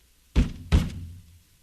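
Two heavy thumps land on an old radio set in quick succession, each a loud dull bang with a short resonant tail, heard alone in a quiet room.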